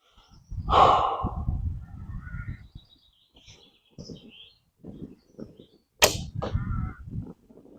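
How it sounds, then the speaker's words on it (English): An arrow leaves a Daylite Majesty 50-pound recurve bow with a sharp snap and whoosh, followed by quieter shuffling and breathing, then a second sharp release near the end. "So a bit of noise there, but the arrow flies kind of straight."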